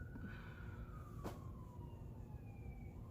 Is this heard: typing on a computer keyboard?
no